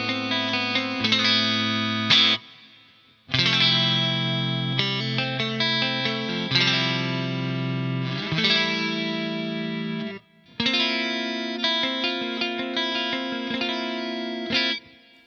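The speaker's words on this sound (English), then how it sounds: "I'll add some hall reverb right at the end" Clean 1980s-style electric guitar played through an Axe-Fx III with delay and hall reverb, ringing chords in sustained phrases with short gaps, loud and alone, tails blooming into spacious reverb.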